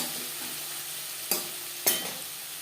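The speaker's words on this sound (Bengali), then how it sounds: "লো ফ্লেমে তিন চার মিনিট মশলা কষিয়ে নেব" Ground spices with salt and turmeric fry on a low flame for a vegetarian cabbage curry, a soft, even sizzle punctuated by two sharp utensil knocks against the pan.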